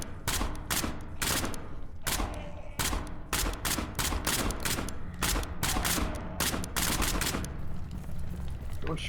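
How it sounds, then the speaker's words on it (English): Dense bursts of rapid automatic gunfire rattle almost nonstop in the SCP: Pandemic video game, with short gaps between volleys and a faint voice underneath. "Someone's shooting at us?"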